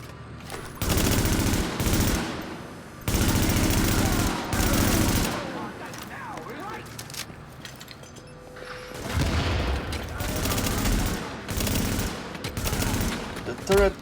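A deployed automatic turret in the game The Division fires in long sustained bursts that start and stop several times, loud and close, with pauses between them.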